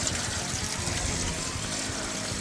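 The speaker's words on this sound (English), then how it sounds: "I'm gonna put about an inch to 2 inches of water above the top of the crawfish." Water pouring steadily into a large crawfish boil pot, a continuous close rushing and splashing hiss that stays even and loud throughout with no talk.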